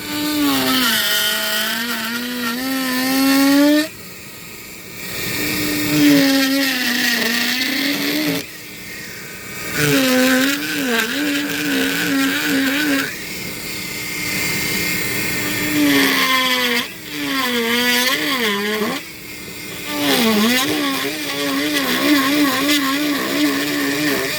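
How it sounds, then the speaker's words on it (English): A Dremel rotary tool carving a wood spirit whines at high pitch in long passes, its tone dipping and wavering as the bit bites into the wood, broken by short pauses, loud and close. "Dremels tend to bounce out of these crevices if you're not careful"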